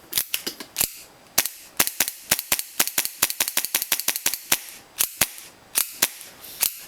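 A Kimber Desert Warrior airsoft pistol fires with blowback: a long string of sharp, loud snapping shots, each with a mechanical clack, fired in quick, slightly uneven succession up close, with no voices.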